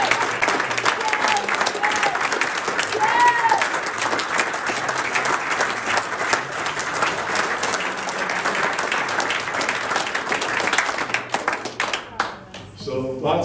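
An audience at a Las Vegas speaking event breaks into sustained applause after a speech, dense clapping from a large crowd that stays loud for many seconds before cutting off abruptly at the end.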